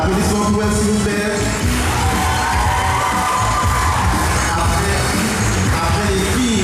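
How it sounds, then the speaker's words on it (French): An audience at a sports awards evening cheers and claps loudly for a prize winner, a dense wash of crowd noise with shouts and whoops held steady throughout and no clear talk. "Applaudissements pour elle, s'il vous plaît."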